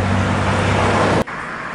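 A Minang intercity coach pulls away at a roadside racing spot in Sungai Lasi, Solok, its loud engine and road rumble filling the scene before cutting off abruptly.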